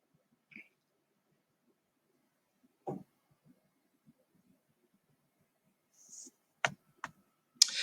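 A few sparse computer mouse clicks in a quiet room while assigning work in Google Classroom, isolated single taps early on, then a quick cluster of sharper clicks near the end.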